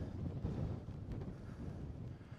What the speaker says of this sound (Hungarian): Szél az fúj, az nagyon vad.